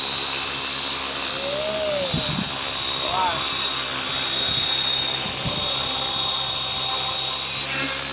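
Aircraft coming in to land, a steady engine drone running throughout with a faint high whine, while someone talks over it in Thai.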